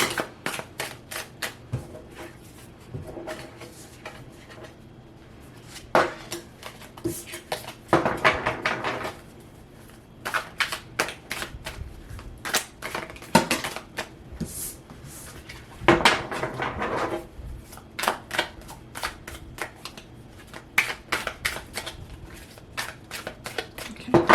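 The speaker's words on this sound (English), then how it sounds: "Let me do some more shuffling." Repeated bursts of tarot cards being shuffled and riffled up close, crisp flicks and slaps in irregular rhythm with short pauses between rounds.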